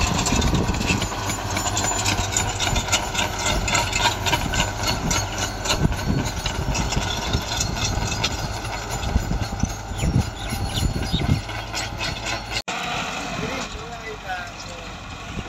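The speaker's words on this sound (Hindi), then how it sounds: "ट्रैक्टर दी आवाज़ा तुसीं सुन ही रहे हो" A Massey 385 tractor engine runs steadily while pulling a rotavator through hard ground, a loud continuous rumble with clattering mechanical knocks that cuts off abruptly near the end.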